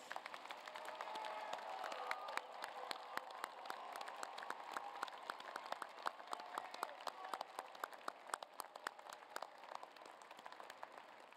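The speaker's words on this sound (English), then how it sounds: "Please join me in applauding these graduates." An audience at a winter university commencement applauds master's degree graduates, a sustained wash of clapping from a large crowd that is fairly distant and gradually thins into scattered individual claps.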